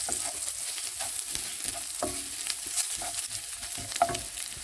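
Chili powder frying in oil in a pan while making drumstick thoran, with a light crackling sizzle and repeated scrapes of a spatula stirring, close and fairly quiet with no talk.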